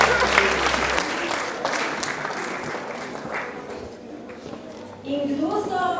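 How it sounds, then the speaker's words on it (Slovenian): An audience at a school awards ceremony applauds in a dense, loud burst of clapping that gradually thins, and a voice starts speaking as it fades. "zaploskati še malce močneje"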